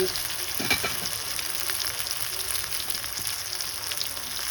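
Cashews, paneer and other ingredients for butter masala roasting in a pan, a steady close sizzle with occasional stirring scrapes throughout, no talking.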